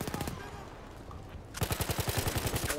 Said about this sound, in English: I'm using my pistol now